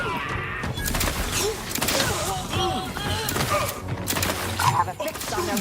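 Rapid bursts of gunfire and explosions from the video game The Outer Worlds 2, dense and continuous combat noise with game voices and music running underneath.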